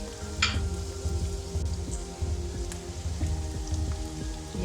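Chopped onions sizzle and crackle in hot oil in a karahi pan while a Pakistani chicken karahi is cooked, a steady, close frying hiss with small pops and a few stirring scrapes throughout.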